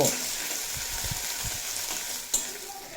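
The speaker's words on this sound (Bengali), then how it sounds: "সয়াবিন দিয়ে খুব ভালোভাবে লাল লাল করে ভেজে নেব" Soya chunks frying in plenty of oil, a steady close sizzle with soft stirring scrapes and a sharper clink near the end, no voices.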